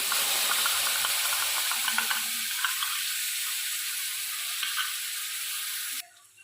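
Spice paste frying in a pan of hot oil after ginger, a steady close sizzle with scraping stir strokes that cuts off abruptly near the end.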